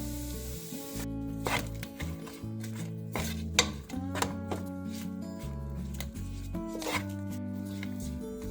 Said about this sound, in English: we're going to add in the rice and mix everything together